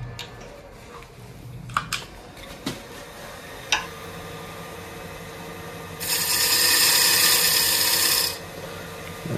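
Wood lathe turning a small tenon and shoulder on a shimmer spinning top: a low steady running hum with a few sharp taps, then a bright rasping cut of about two seconds as the tool meets the spinning wood.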